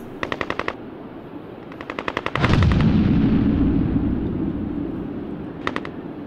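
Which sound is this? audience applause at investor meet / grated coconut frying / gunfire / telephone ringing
gunfire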